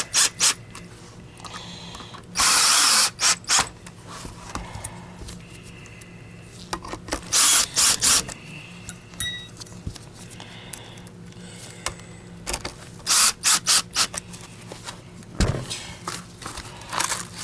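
Screwdriver fitted with a T10 bit working screws out of a Miele H1 S194 Quick Step Universal upright vacuum, giving scattered clicks, ratcheting ticks and short rubbing scrapes close by, with pauses and a few louder knocks, no talking.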